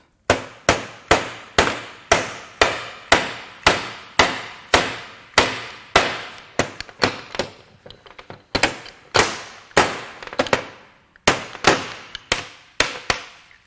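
Sharp metallic hammer blows, about two dozen at a steady beat with a short pause, drive a 15 mm bushed wrist pin out of a piston using a socket during teardown of a blown Colorado 3.7 Atlas five-cylinder engine, close and loud.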